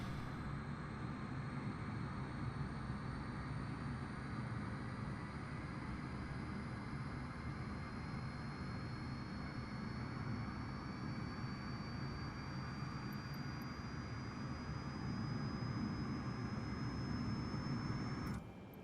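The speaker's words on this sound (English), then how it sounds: "Starting engine number 1." A Boeing 747-8 jet engine spools up during start in Microsoft Flight Simulator, a steady broadband roar with a thin whine rising slowly in pitch, continuous and unbroken throughout.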